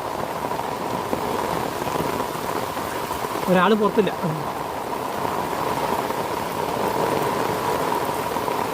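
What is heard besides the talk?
heavy rain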